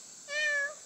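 A cat gives a single clear, drawn-out meow, close and fairly loud against a quiet room.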